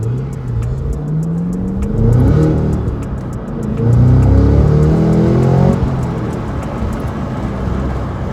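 A Cadillac Blackwing engine revs hard under acceleration, its pitch climbing through gears in rising sweeps, loud and close, with a brief lift-off between pulls and no talk.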